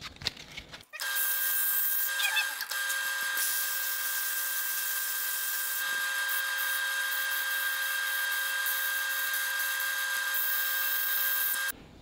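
Sanding a handmade bottle opener with 120-grit abrasive on a power tool, a steady high-pitched whirring grind that starts abruptly, runs loud and constant for about eleven seconds, then cuts off.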